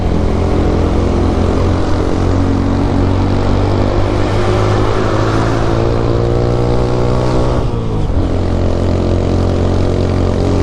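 Honda TMX 125 motorcycle engine droning steadily as it climbs uphill on a mountain highway, with a brief dip in revs around the shift into third gear before it pulls on loud and close, no talk.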